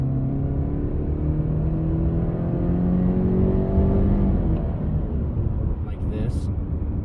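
2020 Subaru Crosstrek 2.0i Premium with a CVT accelerating and fake shifting, engine drone rising in pitch in steps before easing off, heard from inside the cabin, with a voice speaking briefly near the end.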